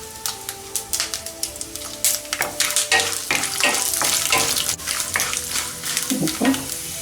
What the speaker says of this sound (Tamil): கடுகு, உளுந்தம்பருப்பு, கடலைப்பருப்பு எல்லாம் நல்லா வறுபட்டுருச்சு